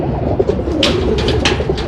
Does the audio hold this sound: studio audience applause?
no